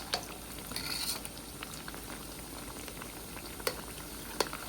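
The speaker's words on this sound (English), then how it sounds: "This is extremely hot oil, so be careful frying them." Chicken bread rolls fry in extremely hot oil with a steady, faint bubbling sizzle, broken by a few sharp pops and light clinks near the end.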